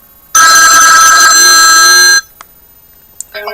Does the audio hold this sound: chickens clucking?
no